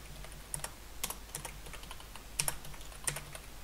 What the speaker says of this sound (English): I'll just type one in here.